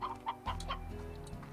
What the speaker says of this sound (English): Run past the chickens!